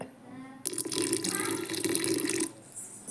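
Water pours in a steady splashing stream into masala paddu batter for about two seconds, close by, then stops.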